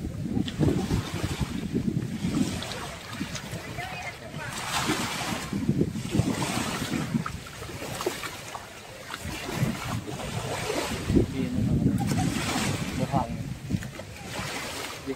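Beach on Samal Island, Davao del Norte, Philippines: a steady wash of surf runs under constant wind buffeting the microphone, with faint voices mixed in.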